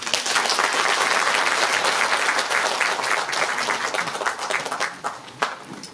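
An audience at a Korean book concert applauds warmly for the author. A dense, loud burst of clapping carries on for several seconds, then thins out and fades to a few scattered claps.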